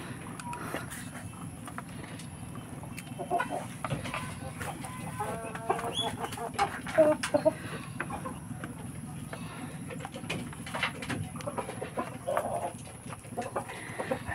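A rooster and farm chickens cluck in a rural yard, with scattered bursts of clucking over steady low background noise at moderate distance.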